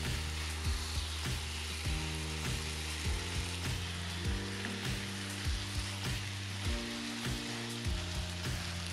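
Noodles with vegetables and chicken being stir-fried, a constant sizzling hiss with occasional scraping stirs, under steady background music with shifting tones.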